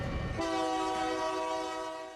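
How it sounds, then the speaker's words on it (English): A Union Pacific train passes close by at ground level, opening with a sudden loud, sustained horn blast over the rumble of the rail cars, then fading slightly toward the end. "This is most people's perspective of trains on the ground as they roar by."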